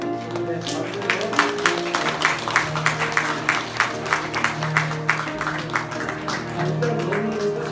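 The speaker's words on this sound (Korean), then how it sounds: "우리 조이준 박수로" A church congregation claps in rhythm during an offering service, with steady, evenly spaced claps from a room full of people and a few voices faintly underneath.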